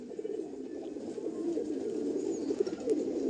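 A pair of pigeons, a male and a female of the Kala Sabuj or Paschima breed, coo steadily and continuously at close range with no voices present.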